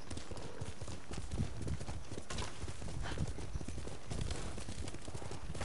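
Horse galloping in the game Ghost of Tsushima, a fast continuous clip-clop of hooves at steady volume with no talking.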